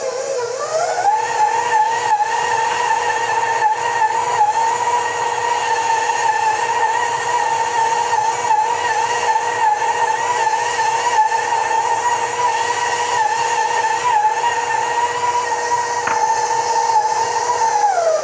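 A stand mixer kneads pineapple bun dough at a higher speed, giving a loud, steady motor whine with a rising pitch at the start and a droning tone that holds throughout, with faint rhythmic thumps as the dough turns.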